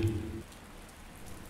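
Rain falling in a soft, even patter with a faint hiss throughout, a brief low thump at the start and end, and no voices.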